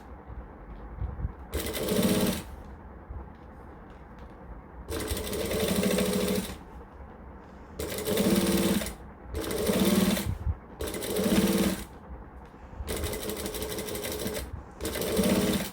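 A sewing machine stitches a bag in loud, close bursts of rapid needle chatter, each a second or two long, separated by short pauses.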